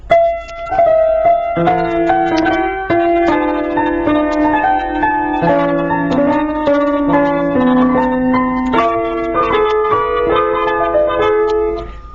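Two melodic lines play together on a keyboard-like instrument, one echoing the other's phrases in overlapping imitation, steady and clear with no voices.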